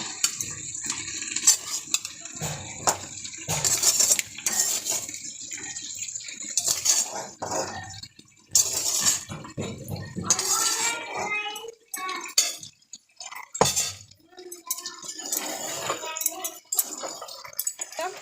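Fried potatoes and cooked meat stirred in a hot kadai, giving intermittent metal spoon scrapes, clinks and sizzling under a steady hiss, close up with irregular pauses between strokes.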